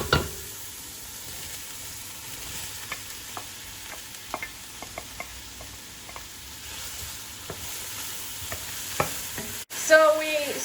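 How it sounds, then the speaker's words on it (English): Mushrooms and garlic sautéing in a pan, a soft steady sizzle broken by regular scraping clicks of stirring, ending with a louder crackling burst. "So we sauteed the mushroom for about 2 minutes"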